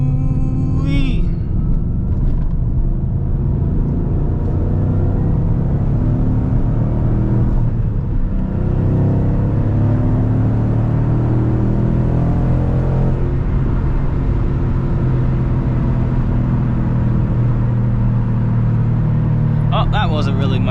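A Ford Mustang on the street, its engine a loud, continuous low rumble that swells with rising revs as the car accelerates, heard close up from inside the car.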